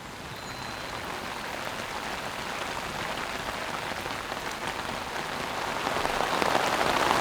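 Steady rain falls on a farm during barn renovation work, a dense, even hiss of drops on surfaces that swells a little louder toward the end, with no voices.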